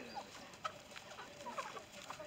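Chickens cluck softly in a farmyard while pecking at a pile of fresh greens, with short scattered calls over a low, steady background.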